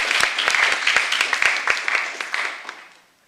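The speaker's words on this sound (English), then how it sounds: "Give her another round of applause for the inspiring words." Applause from the audience at an Essex County Commissioners Asian American Pacific Islander Heritage Month celebration, with close, distinct claps forming a steady patter that thins out and fades away over about three seconds.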